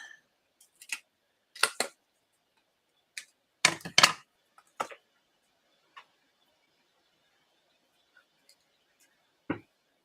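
Paper is trimmed for a floral card, heard as a few sparse, sharp snips and cuts close up in a quiet room, with long gaps between them.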